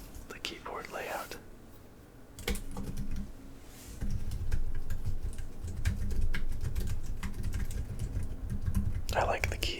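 Soft, clicky keystrokes on a lightweight 13-inch laptop keyboard, typed in quick irregular bursts close to the mic, with whispered speech near the start and end.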